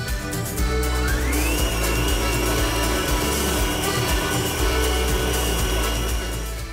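A stand mixer runs loud and close while mixing cake batter after the bowl edges are scraped. Its motor drones with a rising whine and rhythmic churning, with no talking.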